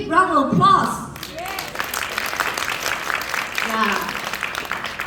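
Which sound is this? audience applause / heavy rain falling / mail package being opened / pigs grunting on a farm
audience applause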